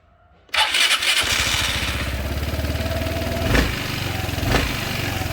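Vespa GTS 250 scooter engine cranking and catching after an ECU repair, then settling into a steady, close, loud idle with a rhythmic pulse and a couple of brief revs.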